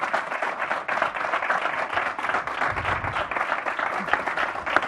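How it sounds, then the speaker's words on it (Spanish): An audience claps for two speakers at a corporate talk event, a steady wash of applause throughout, with some cheering or voices mixed in. "Un aplauso para ellas"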